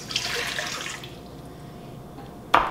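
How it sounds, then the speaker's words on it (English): Warm water for bread dough pours and splashes at first, then tapers off to quiet before a sharp, loud clunk near the end. "A cup and a third of warm water."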